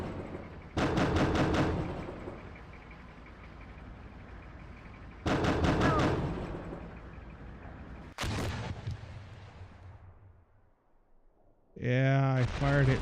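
Bursts of helicopter gunfire in a combat video game: two long, loud rattling volleys a few seconds apart, then a short sharp burst, followed by a brief tonal game sound at the end.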